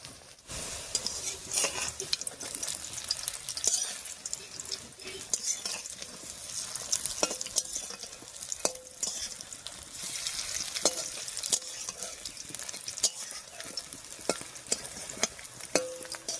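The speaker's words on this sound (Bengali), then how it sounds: "সবগুলো বড়া একবারে দিয়ে দিলাম, তাহলে একবারে ভাজা হয়ে যাবে।" Fritters (bora) sizzle and crackle steadily in hot oil in a pan, with scattered sharp clinks and scrapes of a utensil stirring, continuous and close without talk.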